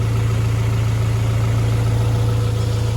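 A Honda Integra engine idles steadily up close after an idle adjustment, a loud, even low-pitched drone with a constant throb and no talking.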